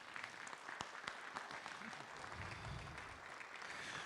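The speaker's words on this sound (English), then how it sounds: "Give them a round of applause for coming out." An audience at a December city council meeting applauds Marines being recognised, a steady patter of many hands clapping at moderate distance without talk.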